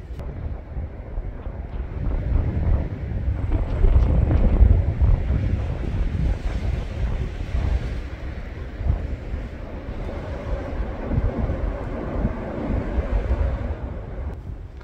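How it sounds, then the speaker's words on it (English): Steady wind gusting over mountains on Cape Breton Island, a broad continuous rushing roar that swells and eases with buffeting against the microphone, no speech. "I love the sound of the wind coming over those mountains."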